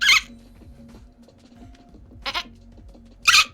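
Three short, bright bleating cries heard alone against a quiet background, spaced apart over a few seconds; a dolphin's call that sounds much like a goat.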